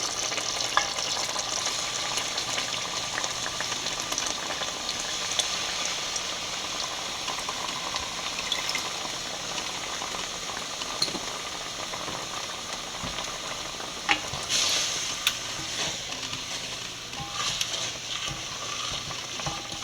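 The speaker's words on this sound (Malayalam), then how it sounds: "ഇനി നമുക്ക് എടുത്തു വച്ചിരിക്കുന്ന കുറച്ച് തേങ്ങാപ്പാൽ ഒഴിച്ചു കൊടുക്കാം" Sardine curry with coconut milk simmering and bubbling steadily in a pot, a continuous close sizzle with faint occasional clinks, no talking.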